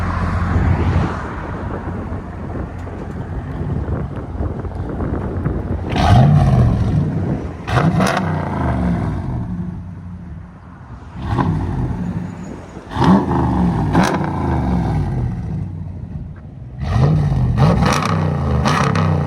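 A 2017 Ram 1500 5.7L Hemi V8 with a Black Widow exhaust revs repeatedly, the deep, throaty rumble surging and falling back to a low idle between bursts.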